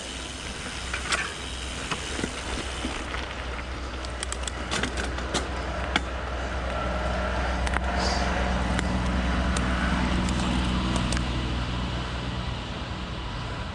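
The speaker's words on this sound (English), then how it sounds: "I got sidetracked looking at that noise. It was a tractor." Tractor engine rumbling nearby beside a mountain bike trail, a steady low drone that swells slightly louder in the second half, with bike rattles and clicks over it.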